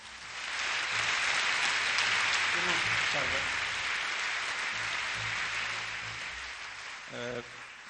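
Audience applause at a tribute evening in Nuoro honouring Marisa Sannia, a steady broadband roar of many hands sustained for several seconds, with a few voices and faint tones surfacing briefly near the end.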